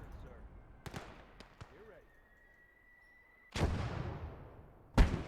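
Mortar fire in a WWII real-time strategy game arrives as a couple of sharp thumps, then a sustained tone and a heavy booming impact with a rumbling tail, followed by another blast at the end.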